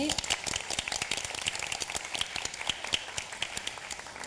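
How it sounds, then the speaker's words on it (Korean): Audience applause for two high school debate teams at a Korean reading, debate and essay competition final, a steady patter of many hands clapping at moderate loudness throughout. "수준 높은 토론을 보여준 양 팀에게 다시 한번 뜨거운 박수 부탁드리겠습니다."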